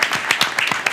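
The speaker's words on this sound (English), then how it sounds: "We can clap it up for him as well" A short burst of scattered applause at a community college district board meeting, claps overlapping unevenly at a close, lively pace.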